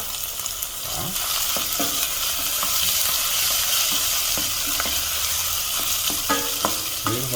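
Portuguese sausage ragu sautés in oil in a pan, giving a steady, close sizzle and fry hiss throughout, with occasional utensil scrapes and clicks as it is stirred.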